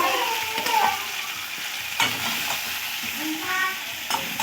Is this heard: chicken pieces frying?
yes